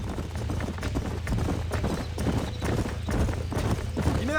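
Rapid rhythmic clip-clop of horse hooves galloping close by in the video game Red Dead Redemption, steady and loud, with a brief whinny near the end.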